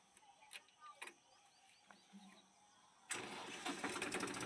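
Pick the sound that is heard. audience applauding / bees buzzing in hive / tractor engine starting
tractor engine starting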